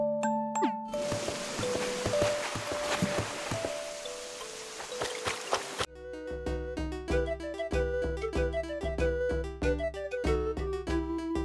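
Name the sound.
shell music box chiming in Animal Crossing New Horizons video game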